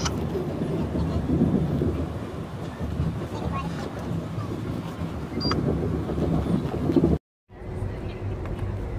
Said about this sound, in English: Is that raining?